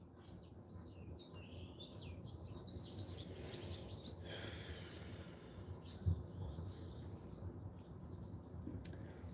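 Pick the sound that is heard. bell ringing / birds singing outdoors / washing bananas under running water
birds singing outdoors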